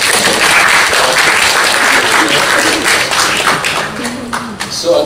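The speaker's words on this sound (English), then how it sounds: "So, we give a round of applause." Loud, dense applause from a lecture audience at a university constitutional law event, a thick wash of clapping that holds steady and then thins slightly toward the end.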